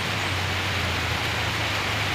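Heavy rain pours in a dense, steady hiss along a rural road in the Philippines, loud and close, with a low hum underneath and no talking.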